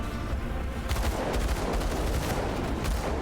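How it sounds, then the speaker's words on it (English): Lava exploding in Grim Dawn, a sustained, loud crackle of blasts and bursts that keeps rumbling without a break for about three seconds. "it's probably the lava exploding"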